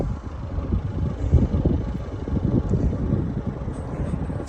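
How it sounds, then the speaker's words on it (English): Steady, blustery wind gusting across an exposed hilltop above the Tees valley, a low rumbling buffet that holds at fairly constant strength throughout with no voices. "It's always windy up here."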